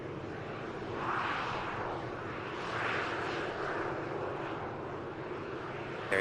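At Manchester Airport, an Emirates aircraft is pushed back while a steady jet engine roar holds throughout at moderate distance, broadband and even, with no talk.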